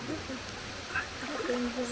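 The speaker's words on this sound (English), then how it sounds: "there's the waterfall and the big plunge pool" A waterfall at Butterfly Falls pours into a big plunge pool with a steady, close rushing wash of water, and faint voices sound over it.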